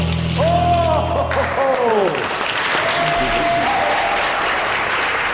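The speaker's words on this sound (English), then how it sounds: "I don't know why they're clapping" Studio audience applause on a science entertainment show rises as a man attempts to cross a wire, a steady broad clatter continuing under an excited host's voice and a sliding whistle-like tone.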